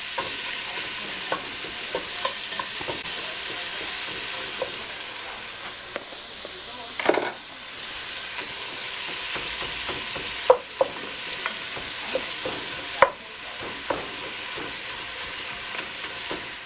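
Ground beef browning in a chili pot, a constant sizzle under repeated scraping and stirring with a spoon, occasional louder knocks against the pot, close and unspoken.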